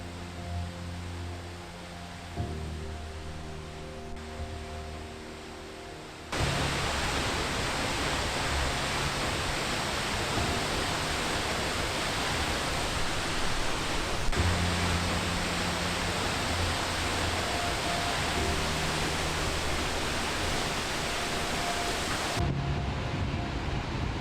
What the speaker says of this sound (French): Seljalandsfoss, la première d'une longue et incroyable série de cascades.